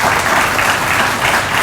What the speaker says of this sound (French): les architectes vous applaudissent